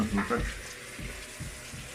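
Water running from a household tap next to a Beretta gas boiler being calibrated, a steady close rush under occasional speech.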